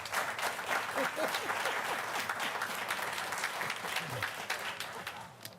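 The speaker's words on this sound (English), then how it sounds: "Another big round of applause for both of our honorees tonight" An audience at a board meeting applauds the honorees with a dense, continuous wash of clapping that stays fairly distant, and a few voices are heard underneath.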